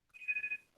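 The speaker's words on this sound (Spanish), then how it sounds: "están marcando por teléfono a mi casa" A home telephone gives one short, faint electronic ring, a steady trilling tone of under half a second.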